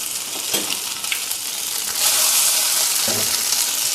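Fish frying in a pan with coconut oil sizzles loudly and close, growing a bit stronger after drops of oil go over it, with occasional soft stirring or scraping.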